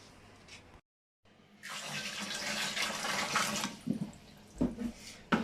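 Water pours into a canner for re-canning jars of mustard and sweet and sour sauce, a steady rushing fill after a brief silence, with a few clunks and splashes near the end.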